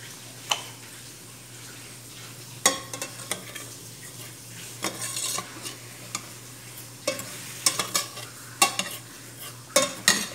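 Brown sugar melting into caramel in a pan for a Filipino banana and sago dessert, stirred with a utensil that gives soft scraping strokes and occasional clinks against the pan over a faint, steady sizzle.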